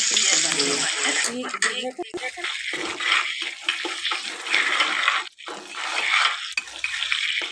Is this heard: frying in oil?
yes